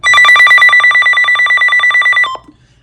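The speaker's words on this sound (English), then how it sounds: "you hit volume up until you get to alert siren test, and then you hit the right arrow button" Alert siren test on a First Alert WX150 weather radio: a loud, rapid electronic warble pulsing about eight times a second like a ringing phone, held steady for over two seconds and then cut off sharply.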